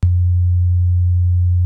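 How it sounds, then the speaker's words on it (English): Steady 90 Hz sine tone from a tone generator on a snare tone track, a loud, constant low hum starting abruptly and holding unchanged for under two seconds. "I've got a snare tone track that is literally a tone generator"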